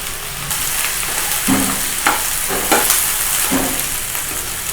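Pieces of ridge gourd fry in hot oil in a pan, a constant loud sizzle broken by several scraping stirs of a spoon, with no one speaking.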